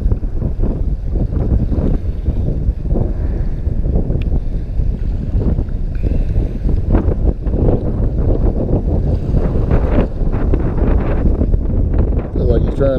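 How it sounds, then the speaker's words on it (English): Steady wind gusting across the microphone beside a river during a December catfishing trip, a dense continuous rumble with some water and boat noise mixed in. "Wind is kind of fighting us today as far as casting and being able to keep tension on our lines"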